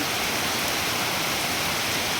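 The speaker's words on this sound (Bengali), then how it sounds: "দেখো কীরকম বৃষ্টি হচ্ছে একদম পুরো জল যাচ্ছে এখান দিয়ে ভীষণ বৃষ্টি হচ্ছে" Heavy rain pours down steadily while water rushes past close by, forming a dense, unbroken roar with no gaps or voices.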